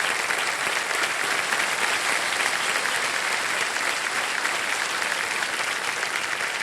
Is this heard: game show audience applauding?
yes